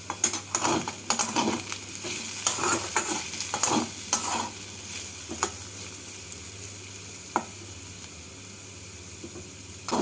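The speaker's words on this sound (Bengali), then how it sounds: "ঢাকা খুলে আলুগুলোকে নাড়াচাড়া করে দেখে নেবো আলুগুলো কেমন সেদ্ধ হয়েছে" Potatoes being stirred in a pan after simmering under a lid, a run of scraping, clinking spatula strokes over a gentle sizzle, busiest early and then thinning to a few isolated knocks.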